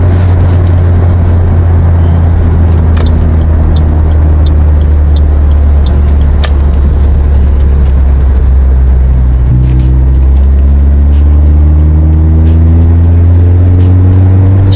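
A car idles through a Greddy chambered muffler, giving a smooth, deep, steady rumble up close, with a slight rise in revs near the end and faint clicks over the drone.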